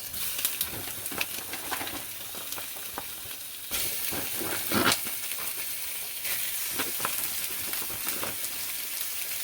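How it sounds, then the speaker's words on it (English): Shrimp hit a hot pan and sizzle, a steady frying hiss that swells when more go in, with scattered crackles and stirring taps up close. "add the shrimp in"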